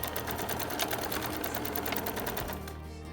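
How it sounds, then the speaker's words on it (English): A sewing machine stitches steadily along the last corner of a fabric face mask, its rapid, even needle rhythm running loud and close without a break. "Sew down to the last corner."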